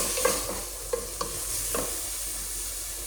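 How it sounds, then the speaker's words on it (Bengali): Sliced onion fries in a little oil in a pan on a gas stove, giving a steady close sizzle broken by a few sharp stirring clacks, with no talking. "পেঁয়াজটা ভাজা হচ্ছে"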